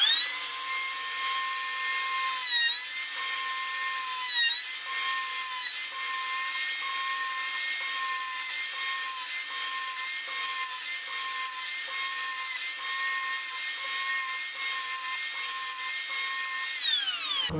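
A Wen 6534 electric hand planer, 4-3/8 inch, cutting wood with a loud, continuous high-pitched motor whine that dips briefly several times under load, close up and alone for the whole stretch.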